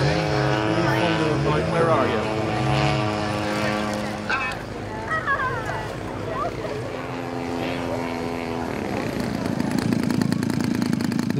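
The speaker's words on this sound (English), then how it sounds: "Launching gliders by towing them up behind a powered model aircraft is a fairly new skill." A powered model aircraft towing a glider aloft at a model flying event, its propeller engine droning and shifting in pitch overhead, with people talking over it throughout.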